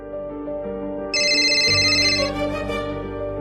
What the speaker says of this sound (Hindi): अभी भी प्राची फोन नहीं उठा रही है?